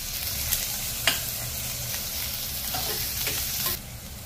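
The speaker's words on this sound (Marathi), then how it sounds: "तेल गरम झाल्यावरती आम्ही 2 बारीक चिरलेले कांदे त्यात टाकले आहे। कांदे लाल मऊसर होईस्तोवर त्याला आम्ही परतून घेणार आहोत।" Two finely chopped onions sauté in hot oil for a mutton curry, giving a steady close sizzle broken by a few sharp clicks of a stirring spoon, with no one speaking.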